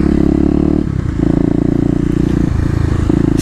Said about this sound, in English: we're going to keep on practicing the second gear wheelies once we get around here